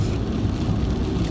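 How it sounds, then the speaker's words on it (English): Heavy rain pours steadily as a dense, broadband wash, loud and constant with no talk over it. "I don't mind walking in a sprinkle or like a light rain, but this heavy, no."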